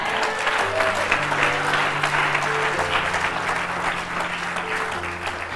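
A church congregation applauds together during a service, a steady wash of clapping that holds for several seconds while sustained organ or keyboard tones run underneath.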